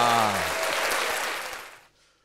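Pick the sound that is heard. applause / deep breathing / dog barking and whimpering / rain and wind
applause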